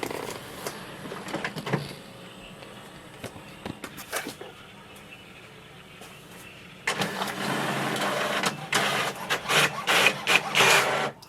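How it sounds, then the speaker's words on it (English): An HP OfficeJet Pro 9013 inkjet printer making a one-sided copy whirs and clicks faintly, then grows louder with steady mechanical feeding and rattling as the page runs through. "here we can see the printer is really fast to do the copy"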